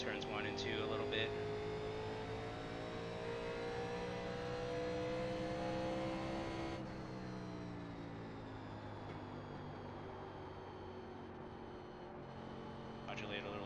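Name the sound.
race car engine accelerating at Phoenix, iRacing video game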